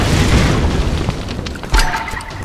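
A grenade blows up in the Tomb Raider video game, a loud low boom with rumbling debris, followed by a second sharp blast partway through, with no talk over it.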